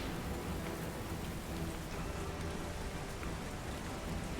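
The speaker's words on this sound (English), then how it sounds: "you just hear, now all the hail and all the crashing" A heavy storm of rain and hail pours down steadily as a dense, continuous wash of noise, loud and unbroken throughout with no distinct crashes standing out.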